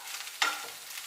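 Mashed potato stirred into a chicken cutlet mixture in a pan, one brief scrape of a spoon over a faint, steady sizzle, close up and quiet.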